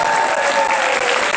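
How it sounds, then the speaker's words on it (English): A big round of applause from a crowd at a Delaware Secretary of State swearing-in ceremony, dense, steady and loud clapping throughout with no voices. "Let's give a big round of applause"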